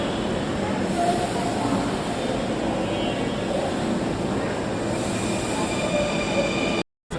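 Metro rail train running toward Motijheel, a steady loud rumble of wheels and carriage noise with faint squeals, continuous throughout before a brief cutout at the end.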